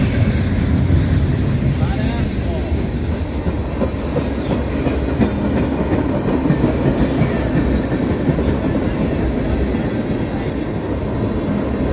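A CSX freight train hauled by EMD locomotives rolls past at night, a continuous loud rumble with wheel clatter throughout, no clear gap in the noise.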